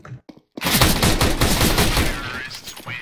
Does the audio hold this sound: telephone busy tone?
no